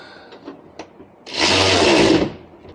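A 7/16 bolt tightened on a bracket during a no-drill Duraflap mudflap install on a pickup truck: a few light clicks, then a loud, steady buzzing ratchet-tool run of about a second close by.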